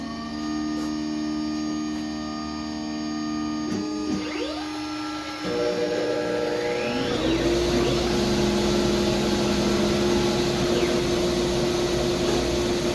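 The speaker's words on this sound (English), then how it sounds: "right now I got to turn on the dust collector" A woodworking dust collector spins up partway through with a rising whine, then settles into a loud, steady hum. Another machine's tonal drone runs before it starts.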